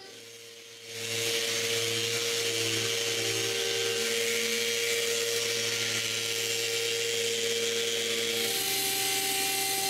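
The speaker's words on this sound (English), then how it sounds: "When it's dry, I sand the glue up." A power sander runs on dried glue over glued-together wood pieces, starting up after a quiet second and then holding a loud, steady whining drone close by.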